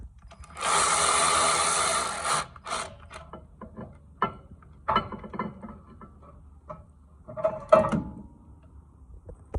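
Ratchet wrench tightening 5mm caliper bolts on the rear brake of a 2020 Mazda CX-5, a rapid clicking burst followed by scattered short ratchet clicks and metallic knocks, close up.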